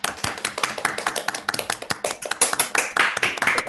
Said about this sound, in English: we can clap now.